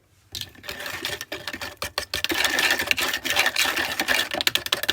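Vegan snickerdoodle cookie dough with a teaspoon of vanilla extract being mixed, likely by an electric mixer, giving a steady close whirring and rattling that starts after a quiet moment and continues with uneven bumps, with no talking.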